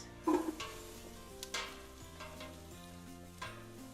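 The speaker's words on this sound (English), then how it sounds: "we're gonna start back here by sauteing the onions" Onions sauté in olive oil with a soft, steady sizzle, broken by a clatter and a few stirring knocks from the pan.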